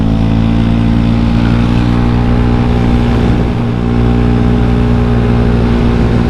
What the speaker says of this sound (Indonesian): Cok, suara knalpotnya enak banget loh,